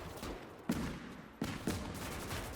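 Pistol fire between officers in the Gates of Hell war game: a few sharp, distinct shots stand out against a constant din of battle noise and distant rattling gunfire.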